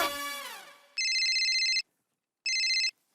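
A mobile phone rings with a bright electronic ringtone: a falling tone sweep, then two clear, even bursts of ringing separated by a short silence, with no talking.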